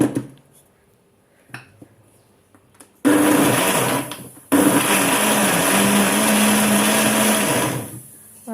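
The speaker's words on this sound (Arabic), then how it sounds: "هنضربه بقى في الخلاط ضرب كويس جدا" An electric blender whirs loudly in two bursts blending lemon juice, a brief pause between them, the motor straining steadily at close range.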